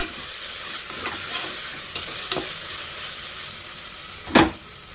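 Tomatoes are stirred into ginger-garlic paste frying in a pan for tomato bath, giving a continuous sizzle broken by several spoon scrapes and one louder clatter near the end.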